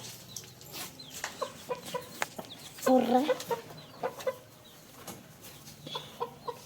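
Native country hens cluck in short repeated bursts nearby, one louder squawk in the middle, with a voice briefly speaking.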